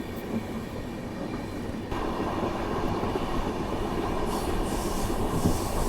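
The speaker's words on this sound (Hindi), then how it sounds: "जब मैंने स्पीडोमीटर में चेक किया तो देखा ट्रेन की रफ्तार वही 80 किलोमीटर पर आवर की थी।" Passenger train running on rails between Ahmedabad and Udaipur at about 80 km/h, a continuous loud rumble with rhythmic wheel clatter and faint squealing, heard from on board with no talk.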